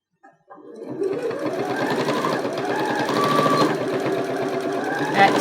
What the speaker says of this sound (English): I'll sew a couple of stitches before I fold it back.